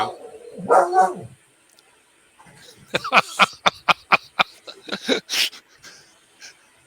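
A dog barks hoarsely in a rapid volley of raspy, wheezy barks close by, after a short bit of talk at the start.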